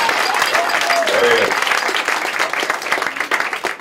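An audience at a live magic show at the Magic Castle in Hollywood claps in sustained, dense applause, with a voice speaking briefly over it.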